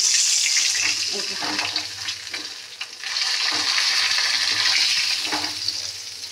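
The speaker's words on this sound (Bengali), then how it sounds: "এই দেখুন মাছ সব ভাজা হয়ে গেছে।" Fish fries in a pan with a steady, loud sizzle and a few stirring scrapes.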